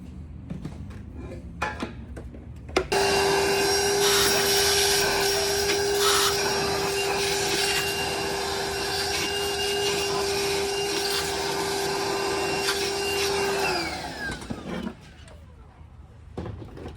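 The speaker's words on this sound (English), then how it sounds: "we're gonna vacuum all of our shavings up" A shop vacuum switches on abruptly, sucking up metal shavings from cutting piston liner counterbores, running loudly with a steady whine and rattling debris for about eleven seconds, then winds down and stops.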